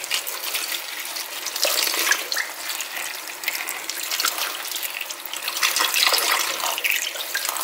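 Tap water runs steadily into a sink while something is washed by hand, a continuous hissing splash with small irregular surges, close and fairly loud, with no talk.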